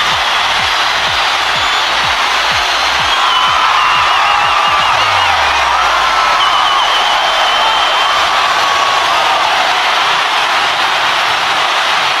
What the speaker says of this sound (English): the crowd screamed non-stop